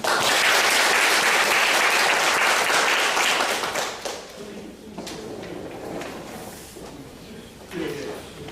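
An audience at a lecture on inter-Korean economic cooperation gives a loud, dense burst of applause to welcome a professor, then the clapping thins and fades, with a few knocks and shuffling noises afterward.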